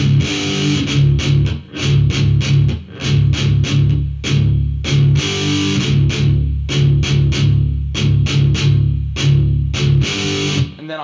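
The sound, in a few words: distorted heavy metal electric guitar riff on low strings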